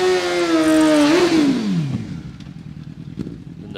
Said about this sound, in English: 1400cc Kawasaki come home strong